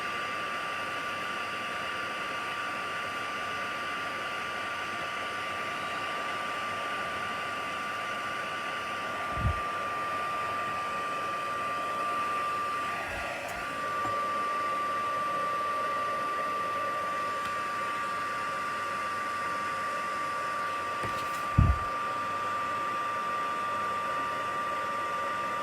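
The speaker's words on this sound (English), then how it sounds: "I'm just going to heat set this. This is a heat tool." A handheld heat tool blowing hot air to heat set ink on a stamped card, a steady whooshing hiss that runs unbroken and close, with a couple of faint clicks along the way.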